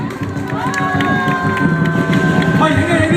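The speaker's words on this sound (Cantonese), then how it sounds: "俾個掌聲先。" An audience at a dragon boat ceremony in Jiujiang, Nanhai, Guangdong claps and cheers in a steady, lively crowd noise. An amplified voice and tonal sounds carry over the top.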